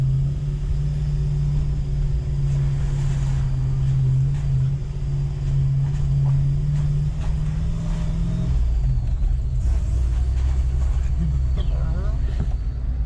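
A supercharged Lexus 1UZ-FE V8 fitted in a Toyota Land Cruiser Prado idles and rumbles nearby, its low steady hum dropping in pitch partway through as the engine note changes, with people talking over it.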